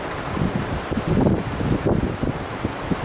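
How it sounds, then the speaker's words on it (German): Gusty wind in the Netherlands buffets the microphone with a low, rumbling roar that swells and fades over a few seconds. "Das ist viel zu windig"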